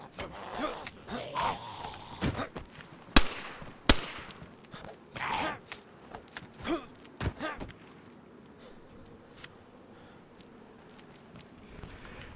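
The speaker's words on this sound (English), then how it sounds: "I apologize for shooting near you." Two sharp, close pistol cracks ring out a moment apart in the survival game DayZ, fired from a pistol with faulty sights, amid soft footsteps, rustling and breathing in an otherwise quiet scene.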